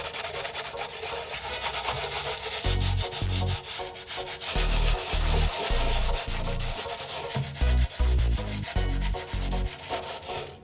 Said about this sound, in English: sanded firmly and evenly across the coated surface